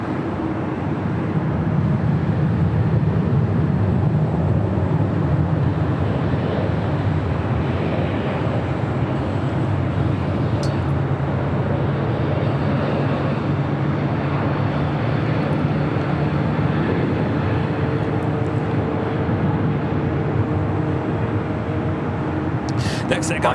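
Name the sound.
Air Canada 787-9 Dreamliner jet taxiing at LAX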